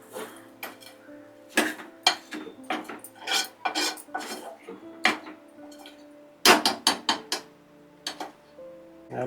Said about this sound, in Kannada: 4 ಏಲಕ್ಕಿ ಹಾಕ್ಕೊಂಡಿದ್ದೀನಿ, ಪುಡಿ ಮಾಡ್ಕೊಳ್ತಾ ಇದ್ದೀನಿ.